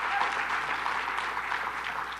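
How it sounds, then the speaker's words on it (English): Applause from an audience at a New York State governor's public address, a steady even wash of clapping throughout the short stretch without pause. "Give a round of applause to the advocates who've been fighting for this for a long time."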